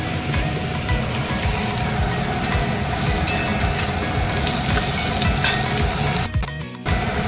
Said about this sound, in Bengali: এখানে পেঁয়াজটা ভাজা চলছে